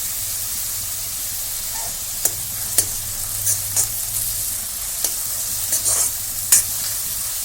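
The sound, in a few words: curry leaves and onions sizzling in pan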